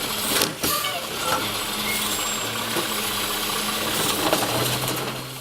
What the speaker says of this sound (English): It's a garbage truck. And here comes one now.